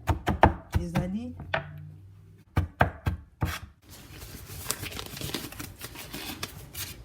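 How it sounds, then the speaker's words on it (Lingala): Knife chopping onions into small pieces on a board, a quick burst of sharp close cuts, a pause, then a few more strikes followed by steady scraping and rustling. "Na kokata yango pe mike matungulu na biso."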